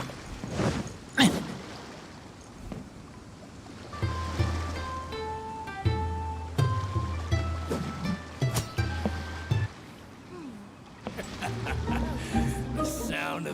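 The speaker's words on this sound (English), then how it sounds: "The sound of the ocean waves." Ocean waves wash in a continuous, rolling surf in the video game Genshin Impact, broken by a few sharp clicks and thumps, with musical tones and low booming game effects layered over the water.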